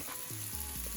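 Sweet potato, onion, mushroom and kale sautéing in a pan, a steady close sizzle with a few soft stirring scrapes and no talking.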